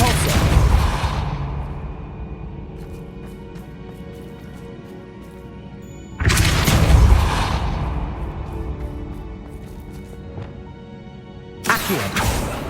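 Depulso spell effects in Hogwarts Legacy: three loud, broad magical blasts at roughly six-second intervals, each a sharp burst that rings and decays over a busy, humming game background, with no talking.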